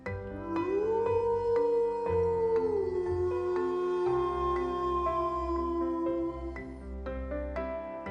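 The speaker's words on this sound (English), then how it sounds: "Wolves are highly social animals that live and hunt in packs, communicating through howls and body language." A long, wavering wolf howl rises and slowly falls, with a second fainter wolf howl layered beneath, fairly clear and unaccompanied by speech.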